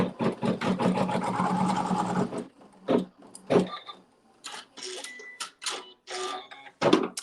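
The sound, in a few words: sewing machine stitching a seam in fabric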